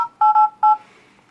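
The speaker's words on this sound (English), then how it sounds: "So here's the phone calling." Three short electronic DTMF dialing beeps in quick succession from the speakerphone of a PIPO T3 MTK8382 seven-inch Android tablet, loud and clear with no talk.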